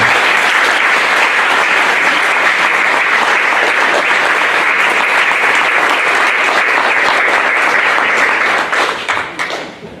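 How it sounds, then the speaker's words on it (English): Sustained applause from a conference audience for a racial wealth data panel, dense steady clapping filling the room for about nine seconds before thinning out and fading at the end. "please give our panelists a round of applause and thank you again"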